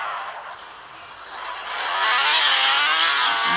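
A supercar engine in the game Car Parking Multiplayer 2 roars as the car speeds up, its bright whine climbing and growing steadily louder over a few seconds, with no talking.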